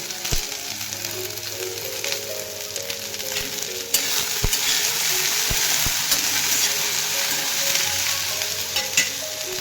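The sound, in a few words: chili, turmeric and salt frying in a pan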